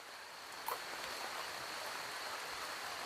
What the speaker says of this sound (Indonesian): lalu turun hujan sedulur